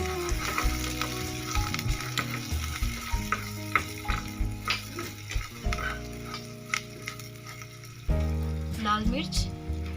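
Red chili and garlic chutney with coriander and salt is roasted in a pan, giving a soft sizzle punctuated by frequent spoon scrapes and taps, with background music underneath.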